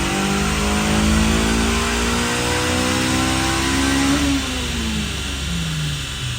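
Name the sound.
Honda CRX engine revving through the RPM range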